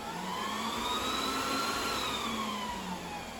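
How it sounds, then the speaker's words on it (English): A Synology backup NAS server powering up in a rack fills the space with a steady, loud fan whir whose pitch rises and then falls as the fans settle, with no talking. "Now I'm going to start the server, or actually Synology backup NAS."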